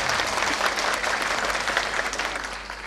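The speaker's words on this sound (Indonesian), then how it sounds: "kita berikan tepuk tangan untuk Desa Wisata Bobong" An audience applauds a tourist village at a community arts and culture event, steady dense clapping from a crowd that fades slightly toward the end.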